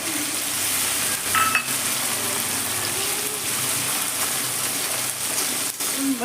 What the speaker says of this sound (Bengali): টমেটোটাও আমার ভাজা ভাজা হয়ে এসছে কিন্তু গলে যায়নি।